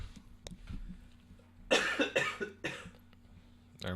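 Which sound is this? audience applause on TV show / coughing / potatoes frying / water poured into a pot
coughing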